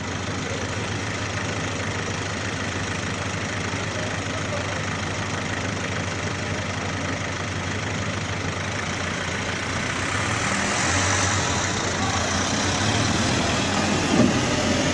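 Military tanks and tracked armored vehicles rumble into the Syrian town of Saqba in 2011, a steady low engine drone that grows somewhat louder near the end as the vehicles come closer.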